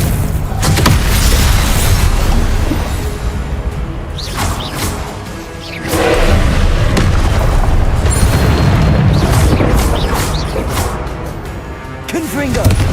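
Repeated explosive blasts of the Confringo spell in Hogwarts Legacy, loud booming bursts layered over dense game action and spell effects, recurring through the stretch.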